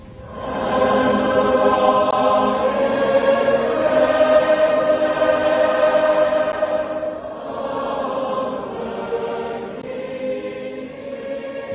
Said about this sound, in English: What you're hearing is the sound of more than 600 of the best high school voices in Kentucky